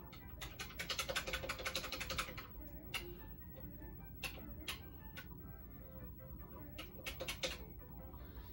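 Sharp plastic clicks from NES Advantage controller buttons during Mario Bros 3 play, fast dense bursts early then scattered single clicks, close and loud over faint game audio.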